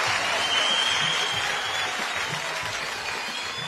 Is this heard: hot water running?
no